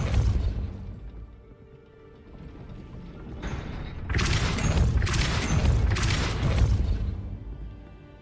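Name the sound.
Depulso spell pushing a gate open, from video game Hogwarts Legacy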